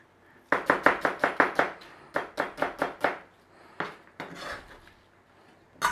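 A knife slices an onion on a board in crisp rhythmic runs of cuts: a fast burst of about eight chops, a pause, another burst of six, then a few scattered strokes.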